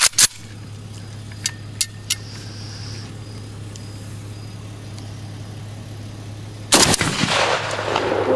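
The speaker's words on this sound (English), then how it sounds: "We are out here today shooting the Russian AKS-74u built on a 74U LLC receiver with the permanently attached barrel extension." A 1986 Russian Tula AKS-74u Krinkov rifle fires outdoors, a couple of sharp reports at the start, then more distant cracks over a steady low engine hum, and a loud burst near the end.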